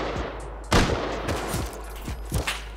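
Rapid bursts of AK rifle fire in the survival game Rust, a loud volley at first followed by several more sharp shots spaced out over a few seconds, with no talking.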